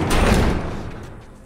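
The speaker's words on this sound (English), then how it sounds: "Barricade the door." A door slams and thuds shut with a heavy, reverberant impact, then the rumble fades over about a second, as it is barricaded in The Last of Us.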